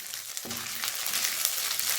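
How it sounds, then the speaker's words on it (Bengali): Dried red chilli torn into hot oil for mutton haleem, giving a steady close sizzle with a brief burst as the pieces hit the oil, then a continuous crackling fry. "একটা শুকনো লঙ্কা নিয়েছি, ছিঁড়ে এর মধ্যে দিয়ে দেবো।"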